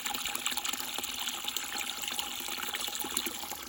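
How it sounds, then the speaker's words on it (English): Water runs steadily from a gravity-fed faucet on a raised-bed watering system, a close, continuous splashing trickle without talk. "if the gravity fed's going to let us use a hose instead of carrying buckets of water"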